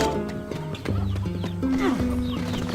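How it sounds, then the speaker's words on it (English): Chickens clucking in the Nier Gestalt video game, short busy squawks and clucks over a dense layer of steady game music, with no talk. "Yeah, chickens."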